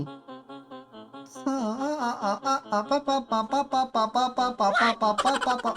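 A woman sings a wavering melody over music from the game Incredibox Evadare, her voice rising after a quiet start and continuing in phrases.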